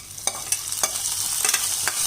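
Fried cashews and raisins get stirred into a pot of chana dal and rice payasam with the stove off. A spoon scrapes in several quick, close strokes over a soft, steady background hiss.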